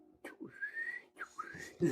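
A person whistles a short two-part tune, each note sliding upward, fairly close in a quiet room, with a brief voice at the very end.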